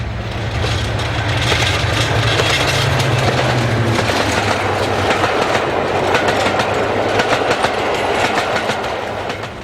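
Class 55 Deltic diesel locomotive hauling a Newcastle to Edinburgh passenger train past Musselburgh, a loud close roar of engine with rapid clickety-clack of wheels over rail joints throughout.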